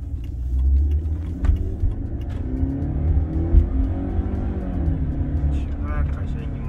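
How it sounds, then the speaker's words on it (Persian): Car engine revving while driving, a low rumbling drone with pitch rising and falling as it accelerates, steady and moderately loud beneath someone talking. "چقدر قشنگ این ماشین دور میدنه موتورش"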